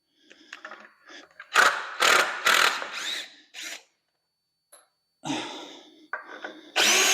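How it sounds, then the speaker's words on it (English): A power drill drives screws into soft wood while simple garage or basement shelving is built, sounding in several close, loud whirring bursts of a second or so each, with pauses and short spurts between them. "The screws don't want to drive into it real tight."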